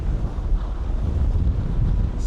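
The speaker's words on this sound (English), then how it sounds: "Hope you can hear me over the wind, but it's been a bit of a windy crossing." Strong wind buffeting the microphone on the open deck of a cross-Channel ferry pulling into Calais after a windy crossing, a loud, continuous low roar with no talk heard.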